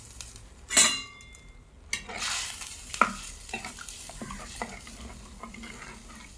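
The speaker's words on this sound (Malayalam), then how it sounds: "കഴുകി വൃത്തിയൊക്കെ വെച്ചേക്കുന്ന മുരിങ്ങയ്ക്ക ഇട്ട് കൊടുക്കും." Washed drumstick (moringa) pieces tipped into a hot pan, giving a burst of sizzling frying followed by stirring scrapes and light utensil clinks, close and alone with no talk.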